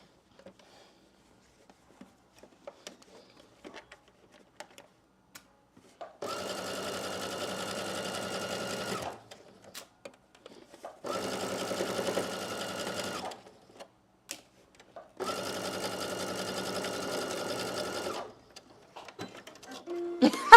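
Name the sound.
sewing machine sewing side seams of a slip dress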